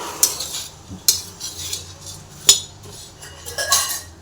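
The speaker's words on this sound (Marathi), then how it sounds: "सर्वप्रथम आपण हे पोहे आहेत ते भाजून घेणार आहोत अशा प्रकारे" Flattened rice (poha) roasts dry in a pan while a metal spoon stirs it, giving several sharp close scrapes and clinks against the pan over a soft rustle.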